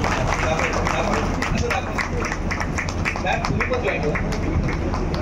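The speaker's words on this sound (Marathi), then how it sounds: "जोरदार टाळ्या हो द्या दिनेशजींसाठी।" Audience applause for Dinesh at a mind-reading magic show, a dense, steady wash of clapping from a crowd that holds for the whole stretch with a constant babble beneath it.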